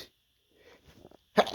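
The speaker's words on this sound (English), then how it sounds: "Another sneeze." A stifled sneeze: quiet strained breathing and small catches build for over a second before one short, sharp, suppressed burst at the end, close and otherwise near silent.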